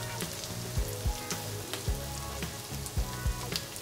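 Chinese sausage stir-fried with dill leaves sizzles steadily in a pan, with regular louder scrapes and stirs punctuating the frying about every half second, close and clear with no talking.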